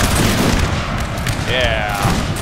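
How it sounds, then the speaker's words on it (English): Musket volleys crackle in a Napoleonic Total War battle, a loud, dense fusillade of overlapping shots booming continuously with a brief tonal call rising over the din partway through. "Come on, give me a volley."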